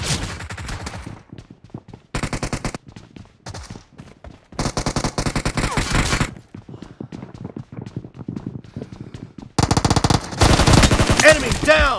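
Bursts of automatic gunfire in the PUBG gun game mode, several loud rapid volleys separated by quieter gaps, with a few single shots and brief game sounds between them.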